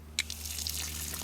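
A low-pressure water jet rinses the door openings of a car, a close, short spray hiss with a small splash at the start.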